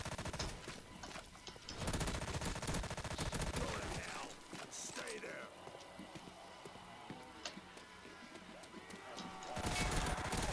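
Gunfire in Call of Duty: World at War on an abandoned-school zombie map, with repeated bursts of shots running through the stretch, loud at the start and end and lighter in the middle under game noise.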